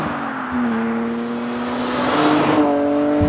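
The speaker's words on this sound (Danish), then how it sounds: "Det er en BMW M3" A 1998 BMW M3 E36 sports car with a 3.2-litre engine revs, its tone climbing steadily in pitch and loudness over a few seconds, heard close and alone.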